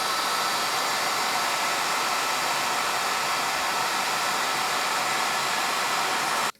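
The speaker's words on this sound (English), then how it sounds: "hairdryer." A hairdryer stands in for a heat gun, shrinking tubing on the wiring of a 1200 Low Sportster during an ape bar install. It blows a loud, steady hiss throughout and cuts off abruptly at the end.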